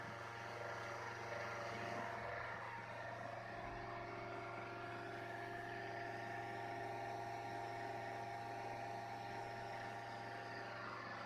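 Motor on a test bench spins steadily at 5,500 RPM, giving a faint, constant high whine with a low hum underneath, unchanged for the whole stretch.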